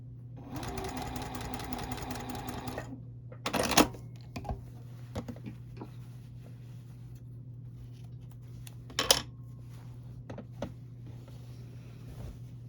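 Sewing machine stitching binding onto a quilt, a close rapid whirring run of about three seconds, followed by a low steady hum with a few sharp clicks and handling sounds.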